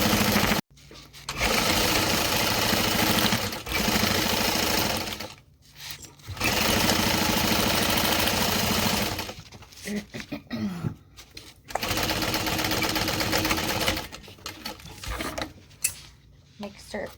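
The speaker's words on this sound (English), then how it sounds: "Go ahead and sew your side seams." A sewing machine stitches the side seams of a garment at a 3.5 stitch length, running in loud, steady bursts separated by short pauses and stop-start stretches, heard close up.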